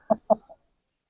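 An Aseel rooster gives three short, close clucks in quick succession, each fainter than the last, followed by brief silence before another sound begins at the very end.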